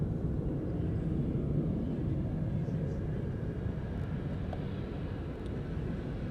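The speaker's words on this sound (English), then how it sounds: "So here's Air New Zealand coming in from Auckland." An Air New Zealand airliner arriving from Auckland at Honolulu airport, its steady low engine roar filling the air continuously, distant and broad, with no talk.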